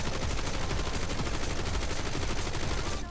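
Rapid sustained automatic fire from a PU-21 light machine gun in a video game, a dense, loud, evenly spaced stream of shots lasting about three seconds.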